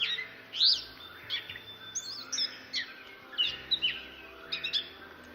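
A gray catbird sings a varied, improvised string of short squeaks, chirps and whistles, each phrase different, fairly close against a quiet background.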